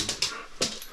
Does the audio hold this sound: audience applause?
no